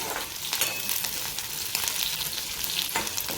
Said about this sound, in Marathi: आपण त्यामध्ये लगेच 2 अख्ख्या मिरच्या टाकणार आहोत आणि त्या देखील तेलामध्ये फ्राय करून घेणार आहोत